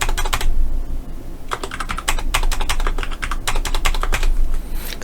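Fast, crisp typing on a computer keyboard, close and loud, with bursts of rapid keystrokes separated by short pauses and a few isolated taps, no voices.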